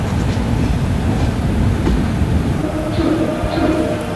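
The Navajivan Express, train number 12656 from Chennai to Ahmedabad, runs along the line with a loud, continuous low rumble and rolling wheel noise heard from on board, with faint talk underneath.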